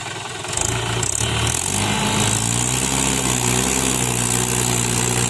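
A Mahindra 575 DI tractor, stuck with its wheels slipping in place, revs loudly and climbs in pitch as the engine labours, a heavy, continuous drone up close with no talk.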